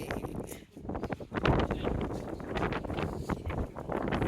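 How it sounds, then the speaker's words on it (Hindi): Wind blows outdoors in Bhutan, a steady, loud rushing roar buffeting the microphone, with gusty surges and rustling throughout and no speech. "अभी दिखाता हूँ आपको क्या हवा चल रही है भाई।"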